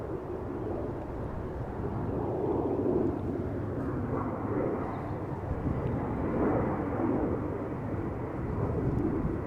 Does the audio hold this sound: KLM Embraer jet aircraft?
yes